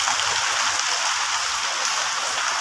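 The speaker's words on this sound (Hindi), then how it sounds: "और हवा भी इतनी तेज़ी से चल रही है, काफ़ी तेज़ी से हवा चल रही है" Stormy outdoor weather with strong wind, a loud, constant broadband roar like rain or rushing air that holds steady with no break.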